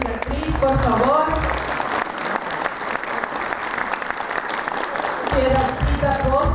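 An audience claps steadily in sustained applause, with a voice speaking over the start and end.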